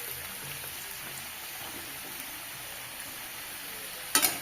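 Drumstick stalks fry in oil in a pan with potatoes, a steady dense sizzle crackling close and even throughout, ending in a sharp clatter of a utensil.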